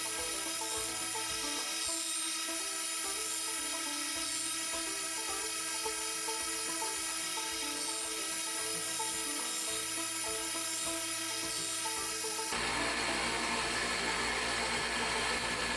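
A belt grinder fitted with a fine 1000 grit belt hones the edge of a scalpel made from an old farrier's rasp. It gives a steady, continuous abrasive hiss and whir that runs nearly unchanged throughout, with a brief shift in tone near the end.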